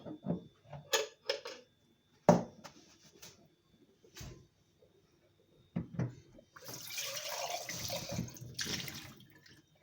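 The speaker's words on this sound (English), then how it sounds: "Pour this juice back into the blender so you can see exactly what it looks like." Juice pours in a splashing stream into a blender toward the end, after some scattered knocks and clunks; no one speaks.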